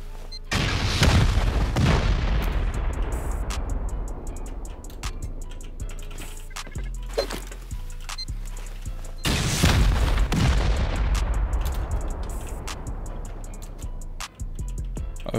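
Heavy explosions from rockets and C4 charges during a base raid in the Rust video game, with two big booming blasts followed by rumbling debris and scattered smaller bangs, loud and close throughout.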